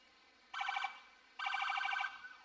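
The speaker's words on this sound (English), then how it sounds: "Love that Lexington Fire Department. Hitting their sirens as well." Two loud electronic siren blasts from a Lexington Fire Department truck at a town parade, each under a second long, sounding close by over quiet background noise.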